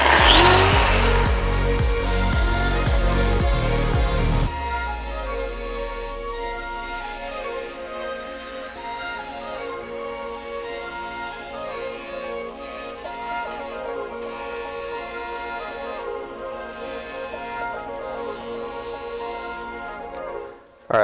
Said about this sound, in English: So first step is to grind all the boogers down.